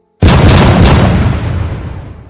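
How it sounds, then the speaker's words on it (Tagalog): A single loud, sharp blast of a gunshot in a Filipino horror story, bursting in after a brief silence and trailing off in a long rumbling decay, with no voices. "Sunod-sunod na putok ang pinakawalan ni Philip pero hindi natinag si Karyo."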